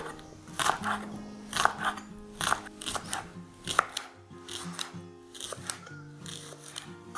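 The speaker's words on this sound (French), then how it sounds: "on va couper tout l'oignon" An onion being chopped with a knife, irregular crisp cutting strokes in short bursts, some faster and some spaced out, close and moderately quiet over a low hum.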